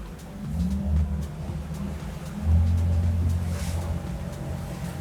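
An Axopar 29 CCX motorboat engine drones low and steady, its rumble swelling louder partway through as it picks up speed, with wind and water noise around it.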